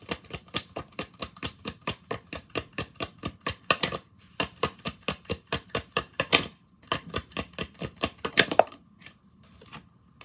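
Tarot cards being shuffled and drawn, a fast run of crisp, regular flicking taps that pauses briefly, resumes, and ends in a quieter rustle, close and clear with no talking.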